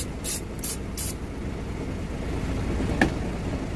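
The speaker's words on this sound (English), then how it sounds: "Got me some cooking spray." Cooking spray from a can hisses in three quick bursts inside a semi truck cab while fried chicken is prepared. A steady low engine rumble runs underneath, and a single sharp click follows.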